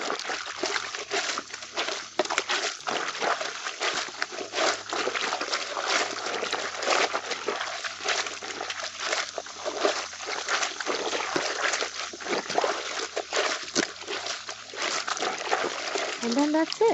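Clothes including whites and jeans are hand washed in water, with continuous splashing, sloshing and dripping under a person talking nearby.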